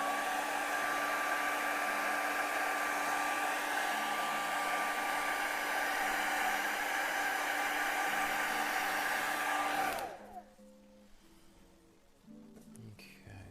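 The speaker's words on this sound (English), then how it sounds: "actually I'm going to use the hair dryer here real quick" A hair dryer blows with a steady whirring hum for about ten seconds, then switches off, leaving quiet room sound.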